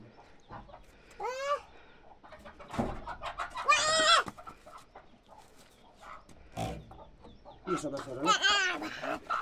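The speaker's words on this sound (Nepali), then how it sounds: "यहाँ चाहिँ कुखुरा छ। चल्ला भएको छ नि त्यहाँबाट, त्यही भएर बाल थुन्नु भएको।" Village chickens kept in a coop with their chicks, clucking and squawking in several loud bursts close by, with people talking between the calls.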